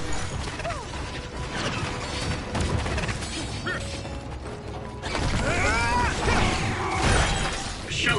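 An enemy's outer shell is smashed with psychokinesis in the video game Scarlet Nexus. The hit brings clanking mechanical impacts and a crunching shatter over a busy, layered game soundtrack that swells louder midway.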